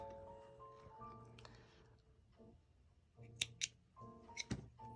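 A few crisp scissor snips cutting thread, close and quiet, follow a stretch of low, faint tones in an otherwise still room.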